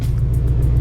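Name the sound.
loud Shelby GT500 engine revving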